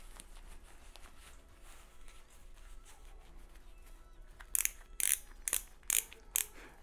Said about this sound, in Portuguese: Vai girando aqui, ó. E ela vai ajustando, apertando até que já está perfeita.